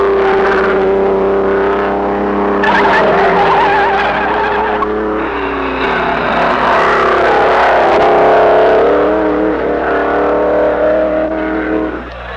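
A loud vintage racing car engine roars and revs continuously, its pitch rising and falling as it speeds along close by, with no talk.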